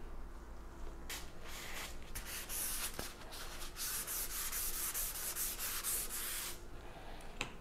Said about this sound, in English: I'm going to start off with sanding up this body